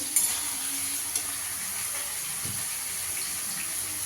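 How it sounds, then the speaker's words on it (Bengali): Small chicken pieces fry lightly in a pan with a steady high sizzle and hiss, plus a few soft clinks and stirring knocks near the start and middle. "চিকেনটা একটু হালকা ভাজা হয়ে গেছে।"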